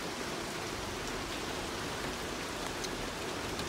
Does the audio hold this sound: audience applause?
no